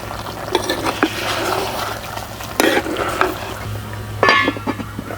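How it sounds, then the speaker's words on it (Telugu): Chicken boils in its own released juices in a village-style green chilli pulao pot, with a steady bubbling simmer under scattered scrapes and clinks of a spoon stirring against the vessel. "చూసారా, చికెన్ నుంచి నీరు బయటకు వచ్చి బాగా ఉడుకుతుంది."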